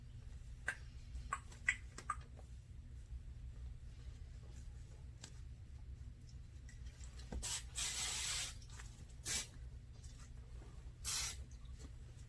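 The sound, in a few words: hairspray being sprayed on hair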